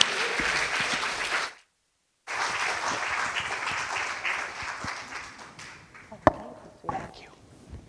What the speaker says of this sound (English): Please give him a great round of applause.